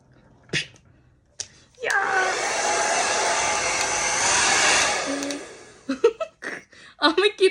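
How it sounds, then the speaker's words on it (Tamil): Hair dryer blowing on hair at home, a loud steady whirring hiss lasting about three seconds, with short bursts of talk and laughter before and after. "இப்போ நான் போய் தலையை காய வைப்போமா?"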